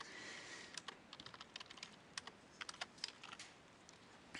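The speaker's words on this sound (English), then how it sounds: "watch how I type it" Typing on a computer keyboard, a quick run of light, irregular clicks and taps heard close up with no voice over them.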